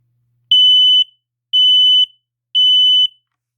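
A Kidde I-12040-CA smoke alarm sounds on test, giving three loud, piercing, high beeps about half a second each, evenly spaced a second apart, close and alone.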